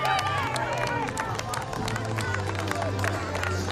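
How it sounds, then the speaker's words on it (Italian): A crowd at an athletics meeting in a stadium claps and cheers during a race, a dense, continuous wash of applause and murmur with an announcer's voice running over it. "Dai, dai, dai, solo applausi!"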